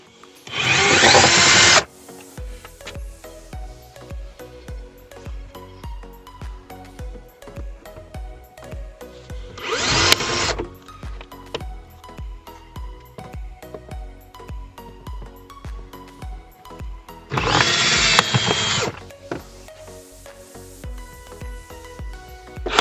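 Power drill driving out screws from a car's interior body panel while replacing cabin and air filters at home, three loud whirring bursts of about two seconds each, separated by quieter handling noise.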